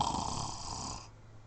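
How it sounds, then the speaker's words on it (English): A person snoring on a podcast mic, a steady close rasping breath that cuts off abruptly partway through, with no talk over it. "someone snoring."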